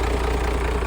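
A diesel fuel truck engine idles steadily and loudly up close, a dense, even rumble with no variation or voices over the brief moment.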